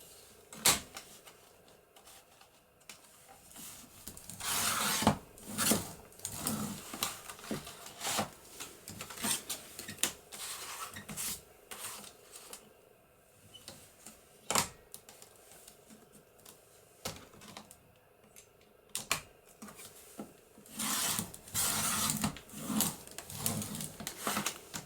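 Cardstock being trimmed for a junk journal with a paper trimmer or scissors, giving repeated sharp cutting and sliding clicks at an uneven pace, close and fairly loud, with no talking.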